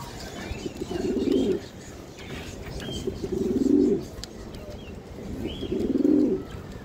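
Red checker racing pigeons at a Bangladesh pigeon market give three slow, throaty coos spaced a couple of seconds apart, close by, with faint chirps from other birds behind.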